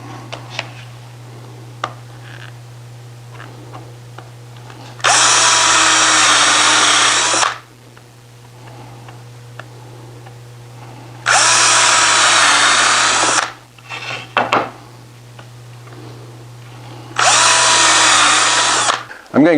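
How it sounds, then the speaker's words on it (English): Power drill pre-drilling and countersinking holes in wooden stiles and dividers for a lumber storage cart, three loud sustained bursts of whirring separated by quiet pauses with a steady background hum. "I'm spending some time pre-drilling all the holes in the stiles, the center divider, and the top and bottom."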